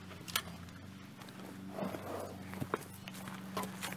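A large horse walks on a farm near goats, its hooves giving a few irregular clip-clop knocks over a low, steady background hum, moderately close and fairly quiet, with no talking.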